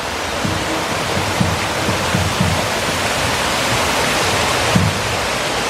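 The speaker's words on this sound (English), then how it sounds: "Here's that waterfall" A waterfall beside the Queen's Staircase in Nassau roars as a steady, dense wash of falling water, close and loud throughout, with a few faint thumps underneath.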